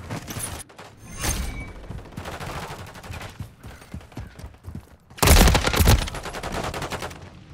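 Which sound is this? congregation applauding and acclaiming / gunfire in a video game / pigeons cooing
gunfire in a video game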